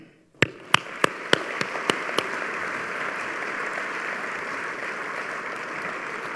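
At an annual chamber of commerce dinner, a few sharp, separate claps open a burst that swells into sustained, dense applause from the crowd, holding steady and fairly loud to the end.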